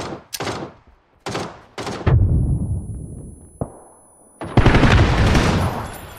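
Video game combat: sharp bursts of close gunfire rattle in quick volleys, followed by longer roaring blasts like a grenade explosion, loud and near with brief silent gaps.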